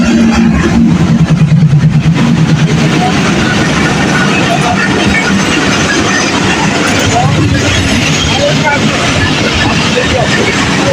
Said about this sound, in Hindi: ट्रेन आ गई जन्नत की ट्रेन। ये आ गई।